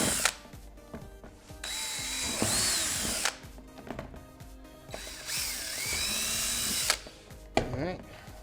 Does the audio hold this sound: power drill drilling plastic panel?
yes